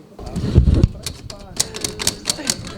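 An old typewriter typing a court sentence, with sharp irregular key clacks and a carriage-like thump, under a voice speaking at the start.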